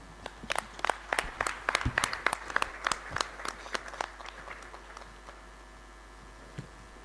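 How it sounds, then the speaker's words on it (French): Audience applause at an extraordinary congress in a large hall, a run of crisp, distinct claps that starts lively and gradually thins out and fades, with a low electrical hum underneath. "Ces applaudissements montrent que nous avons tous adhéré"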